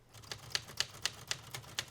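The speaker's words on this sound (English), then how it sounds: "So we get to use a very fabulous teal typewriter to make that come to life in front of our audiences." Typewriter keys on a teal typewriter clatter as a foley effect, about six crisp, evenly spaced strikes in a steady rhythm, close and fairly quiet with no voices.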